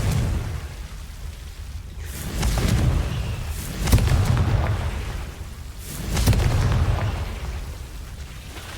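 Confringo fire-blast spell explosions in the wizarding video game Hogwarts Legacy, with several deep rumbling booms rising and fading at regular intervals over a constant low roar.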